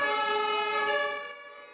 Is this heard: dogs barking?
no